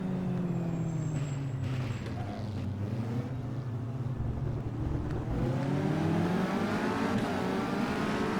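Caterham 360R racing at Cadwell Park in the Automobilista video game, a buzzing engine note rising and falling through gear changes, loud and continuous from onboard.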